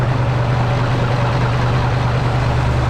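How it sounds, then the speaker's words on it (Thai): A six-wheel dump truck's engine idles close by, a steady low rumbling drone with a constant hum that stays even and loud throughout, with no voices. "เครื่องยนต์นะครับ"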